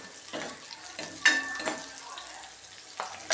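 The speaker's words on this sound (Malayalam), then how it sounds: "എണ്ണ ഭയങ്കരമായിട്ട് ചൂടായത് സ്റ്റീലിൻ്റെ ചീനിച്ചട്ടി ആയതുകൊണ്ട് പെട്ടെന്ന് ചൂടാകും" Very hot oil in a steel pan hisses in short bursts as ingredients are stirred, with a bright metallic clink partway through; the sizzling is close and uneven, rising and fading several times.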